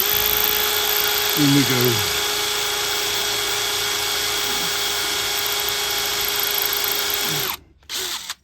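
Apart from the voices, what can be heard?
drilling through gate for new lock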